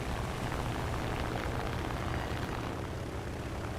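Fighter aircraft engine in War Thunder, a faint, steady broadband roar and rumble droning evenly throughout with no talk over it.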